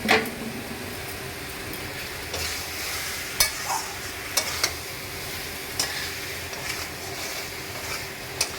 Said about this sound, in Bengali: এবার কচুগুলো মশলার মধ্যে দিয়ে একটু নাড়াচাড়া করব।